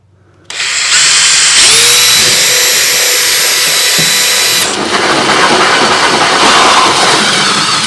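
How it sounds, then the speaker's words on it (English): A power drill whines up to a loud steady high-pitched spin, bites into material for several seconds, then shifts to a rougher grinding drone, drilling a hole for a diesel heater install on an overland trailer. "then we will drill a hole"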